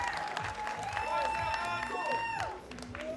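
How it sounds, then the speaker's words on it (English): Spectators at a junior men's trap shooting final applaud and cheer, a scattered patter of clapping with some whistling tones, fairly faint and mixed with talk. "Now the audience is cheering him more and more."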